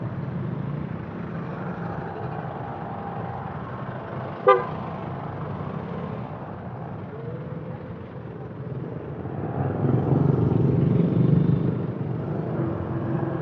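Busy street traffic near a market in the Philippines rumbles steadily while a car horn gives one short toot and the engine noise swells later on.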